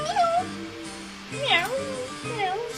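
A cat meows repeatedly in the video game Panique à Mickeyville, three short rising-and-falling mews close up with brief pauses between them, and speech overlapping the meows.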